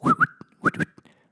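A voice whistles two quick rising swoops, each a pair of short chirps, imitating a fast swiping sound.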